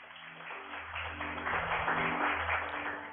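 A church congregation applauding during a sermon, steady massed clapping that swells and holds, heard from a moderate distance without speech.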